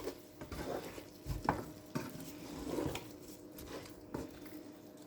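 Cooked pasta being stirred in a pan with parsley soon to be added, giving quiet scraping and soft sizzling strokes in irregular bursts, close by with no talk.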